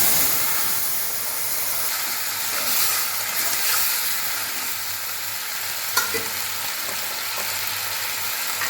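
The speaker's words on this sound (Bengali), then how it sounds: "এবার আমি পেঁপেটা ঢেলে দিচ্ছি।" Papaya pieces fry with turmeric and bay leaf in a pan, a continuous close hiss and sizzle with a few stirring scrapes and one sharp clink partway through.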